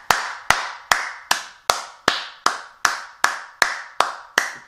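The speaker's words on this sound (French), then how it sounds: "j'applaudis." One person claps hands alone in a slow, perfectly even rhythm, about twelve sharp, close claps, each ringing briefly before the next.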